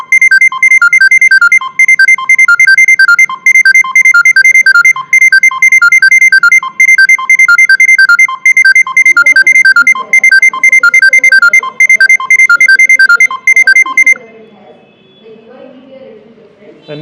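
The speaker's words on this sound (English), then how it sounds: "our another driver getting notification with the same loud notification and with the same time" A taxi booking app sounds its ride request notification on a driver's phone: a loud, rapid electronic alert melody repeats steadily for about fourteen seconds, then cuts off, leaving faint background noise and a soft voice.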